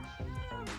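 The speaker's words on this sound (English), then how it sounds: "It's a cat, sorry." A cat lets out a loud, drawn-out meow close by, wavering in pitch, with a second short cry at the end.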